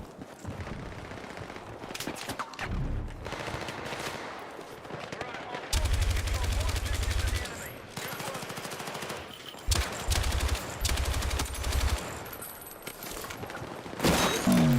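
An SKS rifle loaded with slugs fires in Battlefield 6, alongside repeated loud gunshots and heavy firing bursts amid busy battle noise. A voice talks intermittently.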